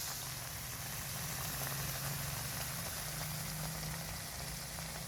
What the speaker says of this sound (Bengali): সয়া চাপগুলি আমি লাল লাল করে ভেজে নিচ্ছি।